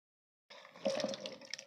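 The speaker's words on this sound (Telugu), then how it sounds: "ఇప్పుడు వీటిని వాటర్తో 1 లేదా 2 సార్లు బాగా వాష్ చేసుకోవాలి." Cut cauliflower florets are washed with water in a bowl: after a brief silence, close, soft splashing and sloshing of water begins and continues unevenly.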